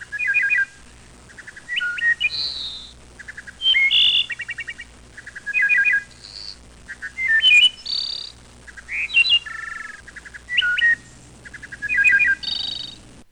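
Complex bird song at normal speed, a series of clear repeated phrases of chirps, whistles and quick trills separated by short pauses, crisp and close against a quiet background.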